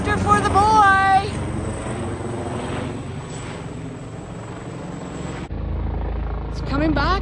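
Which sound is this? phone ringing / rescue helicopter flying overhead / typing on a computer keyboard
rescue helicopter flying overhead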